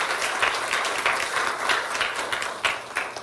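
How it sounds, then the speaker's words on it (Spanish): A church congregation breaks into sustained applause, a dense wash of many hands clapping at moderate loudness throughout, with no voices standing out. "Dale un fuerte aplauso al Señor en esta mañana"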